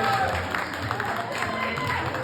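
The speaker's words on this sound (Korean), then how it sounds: "박수 부탁드리겠습니다" Applause from guests at a first-birthday party, a steady crowd patter that is moderately faint and spread through a room, with voices murmuring underneath.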